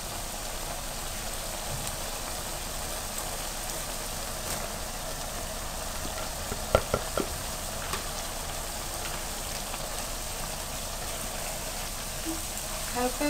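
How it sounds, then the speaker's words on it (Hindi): Potato pieces and capsicum sizzle softly in a hot pan, a steady low crackle of frying that runs evenly throughout with a few small pops and clinks near the middle. "हल्का सा इसको फ्राई करना है।"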